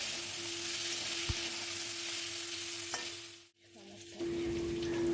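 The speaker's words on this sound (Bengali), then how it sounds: "এই আলুটাকেও একটু ওই নেড়ে ছেড়ে ভালোভাবে ভাজবো" Potatoes fry in a pan with onion, ginger, garlic and tomato, giving a steady close sizzle with a faint hum; it briefly drops away during a stir, then returns at full strength.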